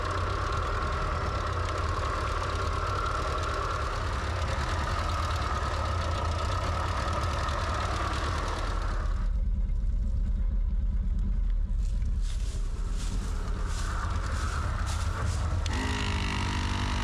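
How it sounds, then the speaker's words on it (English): An old 1967 car, long abandoned, runs with a steady low engine rumble and idle close by, the tone shifting partway through as the sound changes character, with no talking over it. "the most important thing is the engine is working"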